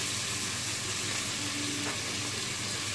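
Onion and pepper sizzle steadily in a hot pan for a Spanish cod-in-sauce dish, a dense, continuous frying hiss with faint stirring and no pauses.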